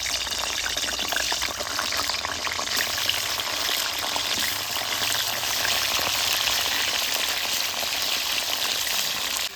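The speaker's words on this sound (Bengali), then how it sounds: "আগে থেকে যে লবণ মাখিয়ে পটলগুলো রেখেছিলাম তেলের মধ্যে দিয়ে দিচ্ছি" Salted pointed gourd (potol) pieces fry in hot mustard oil, making a dense, steady, loud crackling sizzle that continues throughout.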